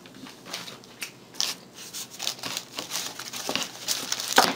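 Stiff, rigid plastic packaging on a keyboard and mouse bundle crinkles and crackles in uneven bursts as it is handled and unwrapped, fairly close and moderately quiet, with no talking.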